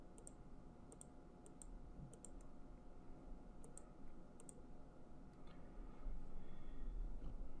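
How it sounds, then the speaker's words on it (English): Computer mouse clicks, several sharp light taps in small clusters, sit faintly over a steady low hum at a desk while zooming a Mandelbrot plot in Maple. "So I'm right clicking to zoom out."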